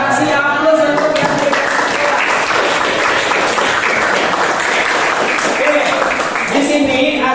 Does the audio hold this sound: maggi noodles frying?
no